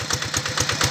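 A Kubota diesel engine, about 11 HP, drives a 6 inch Niagara water pump, running steadily nearby with a fast, even chugging pulse and no talk over it.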